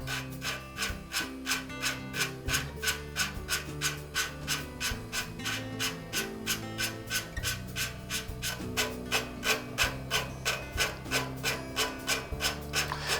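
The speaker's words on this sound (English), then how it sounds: "as I rotate, the lapping compound will cut the two faces so they're the same" A lawn mower L-head engine valve is lapped against its seat with lapping compound, making a close, rhythmic gritty rubbing that rasps back and forth about twice a second with no talk.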